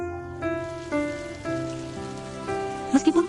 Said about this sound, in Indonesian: dan suara hujan yang sering muncul di Wusu.